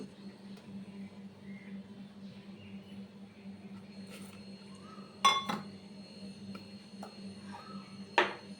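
Small steel plates clink and tap as steamed cakes are turned out onto a serving plate, with a few sharp metallic knocks spaced apart over a quiet background hum.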